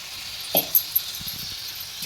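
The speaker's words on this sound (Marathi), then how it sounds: "आज तिला व्यवस्थित टोमॅटो कांद्यामध्ये फ्राय करायचे" Prawns fry in a tomato-onion masala, giving a quiet, steady sizzling hiss broken by a few brief sharp clicks and soft spoon scrapes.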